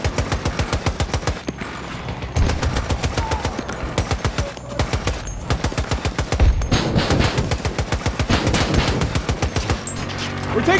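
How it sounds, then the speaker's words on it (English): Sustained automatic gunfire in the video game Battlefield rattles in rapid, loud bursts with barely a pause across the whole stretch, dense and close, with shouted voices faintly mixed in. "We're taking fire!"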